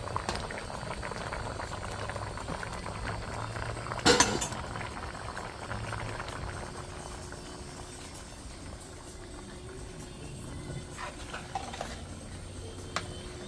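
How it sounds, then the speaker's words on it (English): Spicy sweet mango achar bubbling as it boils down in a pot, a steady close simmer with one brief glassy clink early on, no voices. "As soon as all this is boiled down, it's finished."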